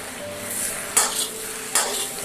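Pork ribs stir-fried in a wok with oyster sauce, Sichuan pepper powder and dark soy sauce, a constant close sizzle broken by two sharp scraping strokes of the spatula.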